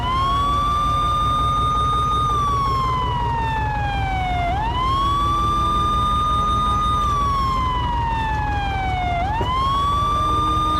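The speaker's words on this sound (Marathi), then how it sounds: "सायरन लावून घे" An ambulance siren wails loudly, rising and falling in long slow sweeps close by, over the low rumble of the vehicle's engine.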